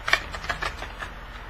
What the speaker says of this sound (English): Let me see if I can shuffle them.